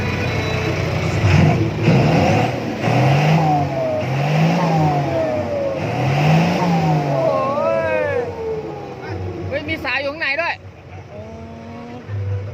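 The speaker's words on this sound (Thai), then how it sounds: "ดูท่อครับ เบิ้ลเบิ้ลตัดหน่อยเบิ้ลตัดหน่อย" A truck engine revs repeatedly through its exhaust pipe in loud, rhythmic swelling bursts that rise and fall. Several people talk over it, and the engine settles toward the end.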